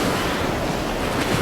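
Violent wind and surging water on a stormy sea, a steady, dense roar that rushes continuously without pause, loud and close, with no voice over it.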